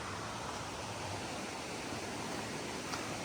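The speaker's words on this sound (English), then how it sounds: "We've got, yeah, a nice little waterfall and a great swimming hole" A small waterfall splashes steadily beside a swimming hole at a backpacking campsite, a constant broadband rush of water with no other sounds.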